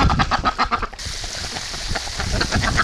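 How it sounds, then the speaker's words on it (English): A flock of excited breeding ducks quacks and honks rapidly and repeatedly at close range in spring, keeping up a busy, overlapping chatter. "The ducks are all excited, wound up."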